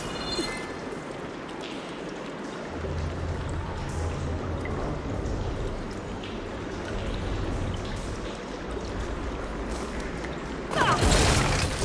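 Water rushes and flows through pipes after a switch in the game Horizon Forbidden West, a steady loud gushing with mechanical rumble that swells near the end.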